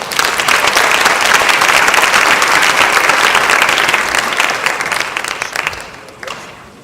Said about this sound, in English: please give a warm round of applause to these rising stars of our family